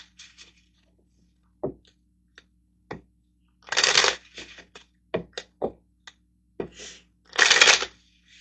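Tarot cards being shuffled in a couple of loud riffling bursts, with scattered soft card taps and slaps between them, close and with no one talking.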